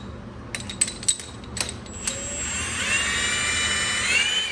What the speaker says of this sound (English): Then grab your puller and let it do the rest of the job.